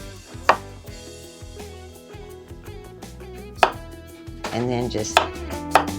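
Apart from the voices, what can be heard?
knife slicing cucumbers thinly on cutting board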